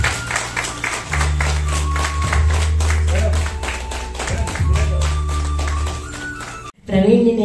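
An audience at a music academy's grand musical event applauds a singer, steady rhythmic clapping over a sustained low musical drone from the stage, continuing for several seconds before cutting off abruptly, after which a voice begins speaking.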